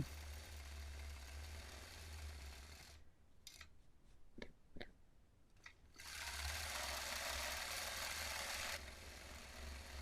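A sewing machine stitches fabric during free motion quilting of a palm leaves design, its steady whirring run pausing midway for a few brief clicks and rustles before resuming loud and continuous.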